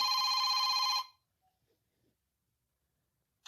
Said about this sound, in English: I have a phone call, but I'm not going to answer this.